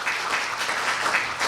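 Audience at a university speaking contest applauding as a guest is introduced, a short burst of dense, steady clapping.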